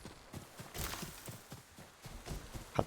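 Horses' hooves clip-clop in steady, uneven beats in the video game Ghost of Tsushima, moderately close and fairly quiet, with no one talking.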